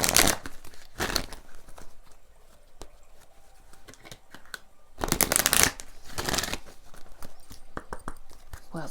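Tarot love cards being shuffled in bursts of crisp riffling and snapping, with the loudest flurries near the start and again around the middle, and softer card handling in the quieter stretches between.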